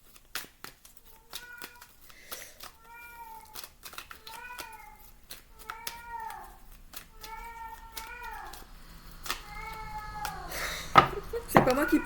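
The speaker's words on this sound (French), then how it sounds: "C'est pas moi qui parle, hein, c'est mon chat." A house cat meows repeatedly, with about eight drawn-out, wavering calls coming in an irregular series. The cat is close and fairly clear, over faint rustling and crinkling, and a few soft clicks and louder handling noises are heard near the end.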